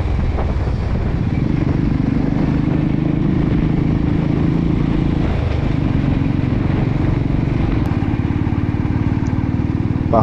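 Motorbike engine running steadily on a mountain road on a ride from Kolkata to Gangtok in Sikkim, a continuous loud drone with rumbling low tones and wind throughout, no voices.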